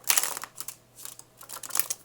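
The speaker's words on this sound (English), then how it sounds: "Shuffle these a few times" Tarot cards, a slightly larger-than-standard deck, are shuffled in short papery riffles and flicks, close and fairly quiet, in a few bursts with brief pauses between.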